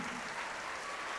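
A congregation in a Portuguese-language church service claps together in a brief, dense round of applause, even and fairly soft, with no speech over it.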